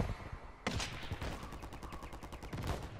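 Automatic gunfire in Call of Duty MW3 bursts in after a brief lull: a rapid, close, rhythmic stream of shots that keeps hammering steadily to the end.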